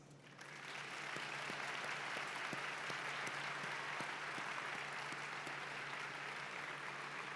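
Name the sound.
audience applauding the faculty at commencement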